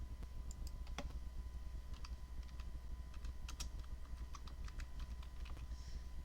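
Quick bursts of keystrokes on a computer keyboard, close and fairly quiet, with short pauses between clusters of taps over a steady low background hum; no one speaks.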